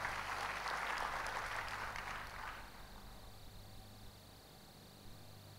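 Church congregation clapping during a Sunday service, a broad wash of applause for the first two and a half seconds that then drops away, leaving a low hum and quiet room tone.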